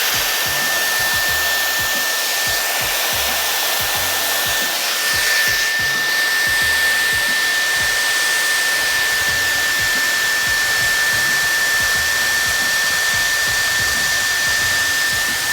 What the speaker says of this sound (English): This tool is a straightening blow dryer.